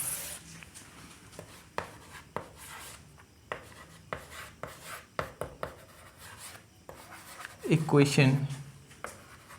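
Chalk or marker strokes on a board during a math lesson, short scratchy taps and rubs in irregular rhythm, faint and close, under a man's spoken explanation.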